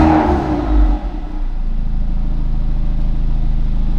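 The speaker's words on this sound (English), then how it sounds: "we'll give it a little blip and see if it sounds any different." A third-generation Audi TT engine with new engine and transmission mounts blips once in a quick rev, then settles into a steady, close idle hum.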